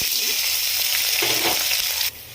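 Onions and green chilies fry in hot oil with bay leaf, cloves, cinnamon, cardamom and garam masala for a goat head curry. A loud, steady, close sizzle runs without talk and drops off sharply near the end.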